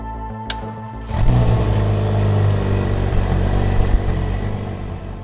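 Ariel Atom 3S sports car engine pulling away, a brief idle that swells into a loud, steady engine drone after about a second and stays close and strong throughout.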